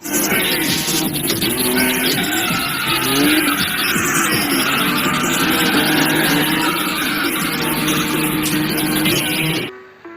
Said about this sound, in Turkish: Otoparktayız yukarı doğru drift atacaklar.